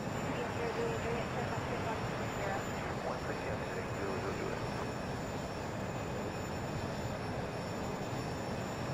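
A Challenger 300 business jet lands in the X-Plane 11 flight simulator, its steady, loud broadband engine and rollout roar filling the scene without letup from start to finish.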